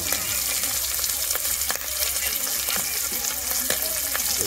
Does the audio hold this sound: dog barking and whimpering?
no